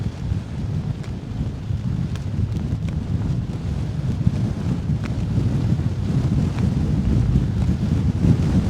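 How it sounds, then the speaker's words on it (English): Strong, constant wind roars and buffets the microphone on a Scottish mountain summit, a dense low rumble that builds slightly and never lets up. "Oh man, that wind is crazy though."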